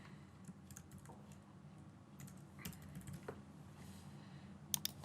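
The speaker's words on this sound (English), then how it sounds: "I'm struggling typing." Soft, quiet typing on a computer keyboard, irregular bursts of light key clicks with brief pauses, over a low steady hum, ending in a couple of sharper taps.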